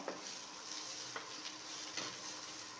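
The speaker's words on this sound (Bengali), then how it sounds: "চালটাকে আমি ভালোভাবে নেড়ে চেড়ে এটার সাথে মিশিয়ে নেব।" Rice for Basanti pulao is turned in a hot pan over a steady sizzle, with soft scraping strokes from a spoon recurring about every half second, close and fairly quiet.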